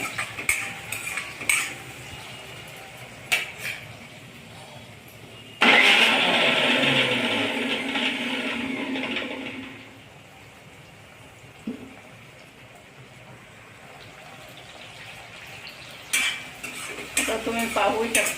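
Tomatoes being sautéed in a pan for a mixed-vegetable bhaji: scattered utensil clinks and stirring scrapes, then a loud steady sizzle of about five seconds as they hit the hot pan, fading back to intermittent stirring taps.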